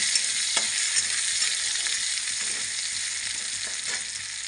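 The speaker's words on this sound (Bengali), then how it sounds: "আমি এখন রসুনটা দিয়ে দেবো রসুনটা দিয়ে আর একটু ভেজে নেব" Garlic frying with browned onion in a pan, a steady bright sizzle throughout with a few soft stirring knocks, close and even.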